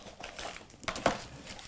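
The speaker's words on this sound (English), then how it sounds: "Let's take it out of the box and show you exactly what you're getting." Packaging for an ION iTYPE keyboard crinkles as it is handled during unboxing, a few quiet rustling crackles with two sharper crunches near the end.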